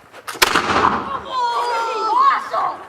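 A historic cannon fired at a battle site during a student visit: one sharp boom followed by a long rolling rumble, loud and nearby, with voices and crowd noise continuing through the echo.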